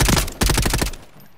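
Rapid automatic gunfire in the video game Call of Duty Black Ops 4, two quick bursts of close, punchy shots lasting under a second before fading to quiet.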